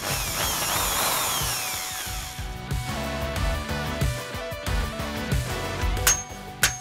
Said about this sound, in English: Let's test to see if this drilling tip actually works or drills more trouble.